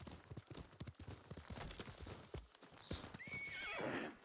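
A horse in a video game clip-clops at a steady, rapid rhythm of hoofbeats, then whinnies with a rising, drawn-out neigh, close and prominent over faint game ambience.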